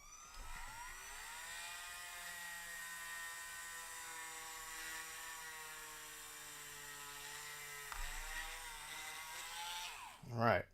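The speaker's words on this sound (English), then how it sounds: "we're gonna drill a hole" A power drill bores a hole through plastic, its motor whirring in a steady high pitch that shifts slightly midway, then a brief louder burst at the end.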